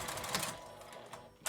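A sewing machine backstitching near the zipper stop of a lined fabric zipper pouch, giving a short, close, fast whir of stitching that lasts a moment.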